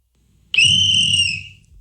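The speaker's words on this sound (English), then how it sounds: "Sir, why did you just blow a whistle?" A single sharp whistle blast, loud and close, holds for about a second before fading, with a low rumble underneath.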